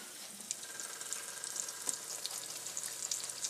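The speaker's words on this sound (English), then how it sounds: "now we're going to fry the rice for around 5 to 10 minutes" Rinsed rice fries in a pan with a steady, close sizzle and occasional light stirring scrapes, continuous for a few seconds with no talking.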